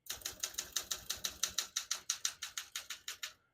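Keys struck one after another on a 1969 Olympia SM9 portable manual typewriter, a steady run of sharp, close mechanical clacks at an even pace with no voices.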